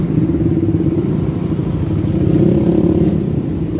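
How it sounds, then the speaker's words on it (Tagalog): Motorcycle engines in road traffic rumble steadily and close by, a continuous low drone with some clatter and light revving, and no one speaking. "Umpisa na naman ang traffic."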